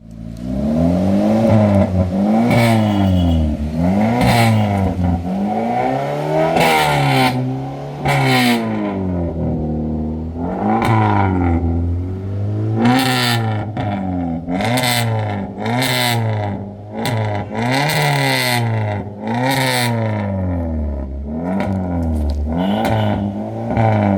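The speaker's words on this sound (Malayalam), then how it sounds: "കാറിന്റെ സൈലൻസറിൽ രൂപമാറ്റം വരുത്തി അമിതമായ ശബ്ദമുണ്ടാക്കി വാഹനമോടിച്ച" A Maruti Swift car with a modified silencer revs loudly and close, its exhaust note swelling and falling in repeated sweeping bursts over a sustained drone.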